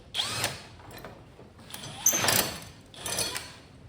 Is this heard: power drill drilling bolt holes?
yes